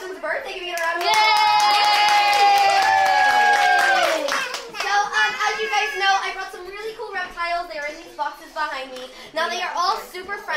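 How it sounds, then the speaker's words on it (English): Children and guests at a kids' birthday party clap and cheer together, a loud burst of hand claps with excited young voices, then scattered clapping under children's chatter. "Give me a round of applause."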